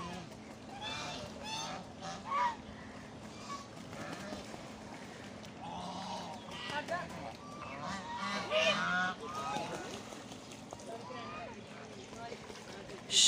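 Waterfowl honk and quack repeatedly at close range while people talk over them outdoors.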